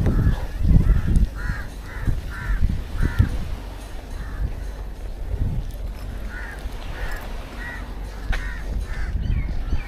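Crows caw repeatedly from trees on Pangkor Island, Perak, in bursts of several calls, moderately distant over steady outdoor background noise and low rumble.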